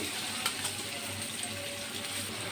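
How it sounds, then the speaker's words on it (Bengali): Chopped onion and garlic frying in a pan for a taro leaf dish, giving a steady, close sizzle with soft crackle and a few brief clinks throughout. "পেঁয়াজ দিয়ে দিলাম কুচানো রসুন"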